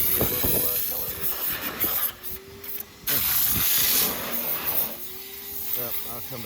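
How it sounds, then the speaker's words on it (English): A pressure washer runs near a riding mower, a loud continuous broadband hiss of spraying water that cuts out briefly around the middle and then resumes, with a rising motor whine underneath. "Just got the pressure washer out."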